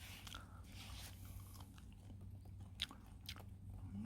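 Fresh wild sorrel greens are bitten and chewed up close, giving repeated crisp crunches, with one sharper bite near the end over a quiet low hum.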